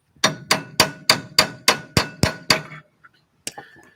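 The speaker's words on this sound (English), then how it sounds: "Knock that ball joint out." Nine sharp, evenly spaced metallic hammer blows ring out close up as a ball joint is knocked loose from a car's steering knuckle during a brake rotor job, followed by a few lighter clanks.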